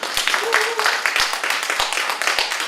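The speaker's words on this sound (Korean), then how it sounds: "다시 한번 큰 박수 부탁드립니다" Audience at a network-marketing seminar applauding after a lecture, a lively spread of clapping with a few sharp individual claps standing out, fairly close, with a voice briefly heard over it.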